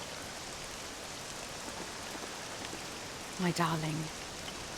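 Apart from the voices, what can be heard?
rain falling in the video game Dragon Quest VII Reimagined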